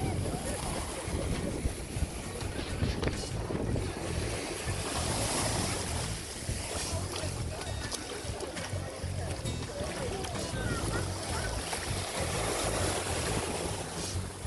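Waves washing onto a white sand beach at Dunn's River Falls in Jamaica, a continuous broadband surf wash with wind, while someone talks over it throughout.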